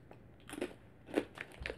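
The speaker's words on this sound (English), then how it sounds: "They are going to be bread crisps with cheese, tomato, and basil seasoning." Bread crisps seasoned with cheese, tomato and basil are bitten and chewed close up, giving a few quiet, brittle crunches in short bursts.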